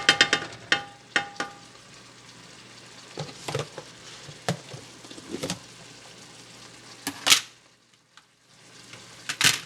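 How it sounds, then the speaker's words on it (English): Cooked shrimp heating in oil and butter in a pan, with a soft background sizzle broken by irregular clatters and scrapes as the pan's contents are stirred. "by the time you add it to your oil and or butter, throw in your other ingredients, basically the shrimp is just heating through"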